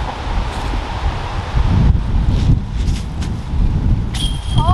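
Gusty wind buffeting the microphone in low rumbling surges on a disc golf course, with a faint metallic clink near the end.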